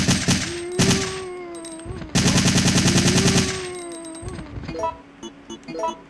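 Automatic gunfire in a shooter video game, loud sustained bursts of rapid shots with a tonal in-game hum underneath, breaking off into scattered lighter clicks and thuds near the end.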